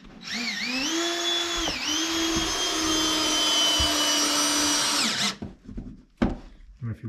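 A power drill whirs close and loud for about five seconds, pitch dipping under load as it drives screws into a barn wall, then cuts off, followed by a few knocks and clatters.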